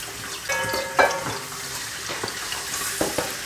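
Garlic paste fries in hot oil in a karahi, giving a soft continuous sizzle with scattered clinks and scraping stirs over a few seconds.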